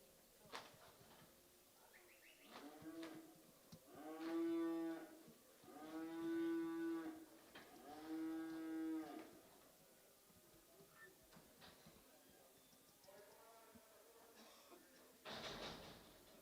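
Cattle at a livestock market auction during a calf and stocker sale, giving several long, drawn-out moos in a row, clear and moderately near, with faint background noise.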